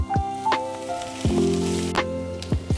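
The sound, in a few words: coconut and onion frying in a pan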